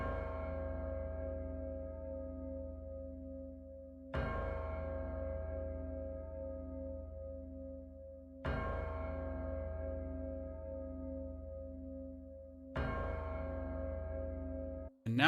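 Four slow, resonant strikes of a chime bell in Where Winds Meet, each ringing out loudly and decaying in a long sustained hum before the next.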